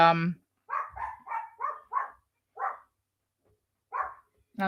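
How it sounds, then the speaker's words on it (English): A dog barks in a run of short, evenly spaced yips and woofs, fairly close, a few more barks after a pause, with a brief human voice at the start. "Sorry about these dogs barking."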